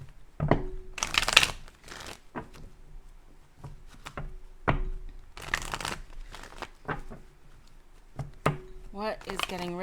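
A deck of cards being shuffled during a card reading, in repeated bursts of riffling separated by short pauses, fairly close, with quiet background hum and a soft tone toward the end.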